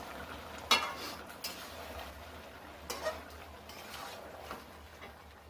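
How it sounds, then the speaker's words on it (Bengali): A spoon stirs chicken curry in a pot, making faint scrapes and a few soft clinks over a low background hum, quiet and close. "এবারে ঢাকনা খুলে একটু নেড়ে দেব।"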